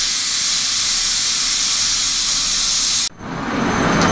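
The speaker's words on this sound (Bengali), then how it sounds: "আমাদের হুইসেল পড়ে গেছে ভালো করে হুইসেল ধরছে এটাতে" A pressure cooker steaming rohu fish lets out a loud, continuous hissing whistle of escaping steam for about three seconds, then cuts off abruptly before the hiss swells back up.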